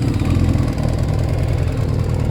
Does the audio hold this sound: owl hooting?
no